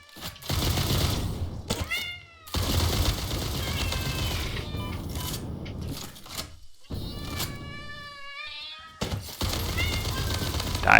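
A cat in the video game Satisfactory meows several times in wavering, rising calls between bursts of loud gunfire and noise.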